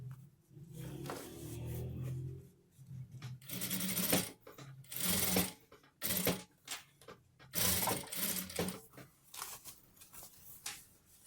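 A domestic sewing machine stitching a satin-trimmed fleece sweatshirt with a knit drawstring, running in rapid whirring bursts that start and stop repeatedly, close up, with no talking.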